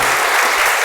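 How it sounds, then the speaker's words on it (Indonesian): Audience applause at a motivational seminar, a dense steady clapping from a large crowd filling the whole short moment at strong level with no talk over it. "Tepuk tangan dulu dong."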